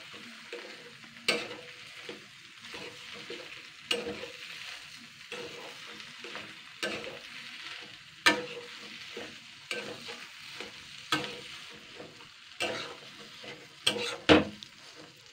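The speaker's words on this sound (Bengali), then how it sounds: "এরপর আমি সমস্ত উপকরণগুলো আমি এইভাবে আলু আর এই মাছের ডিমটা ভালো করে নাড়াচাড়া করে নেব" Potato and fish roe frying in a pan are stirred with a utensil, giving faint continuous sizzling broken by repeated sharp scrapes and knocks against the pan.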